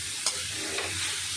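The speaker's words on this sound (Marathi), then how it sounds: "आता हे आपण गूळ आणि नारळ एकत्र करून कढईमध्ये परतायला टाकलेलं आहे" Grated coconut and jaggery sizzle in a kadhai as filling for steamed modak, a steady soft frying hiss broken by a couple of sharp spoon scrapes while the mixture is stirred, close and alone.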